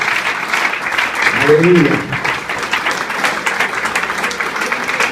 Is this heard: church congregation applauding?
yes